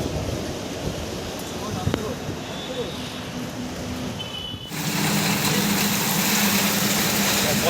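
Heavy rain hisses steadily with low thunder-like rumbling beneath, the downpour swelling noticeably louder partway through while someone talks.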